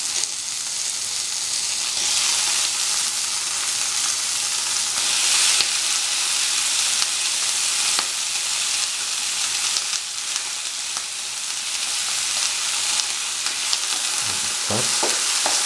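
Tomatoes sizzle and fry steadily in a hot pan for a tomato stew, with a continuous loud hiss and occasional scraping stirs, growing busier near the end.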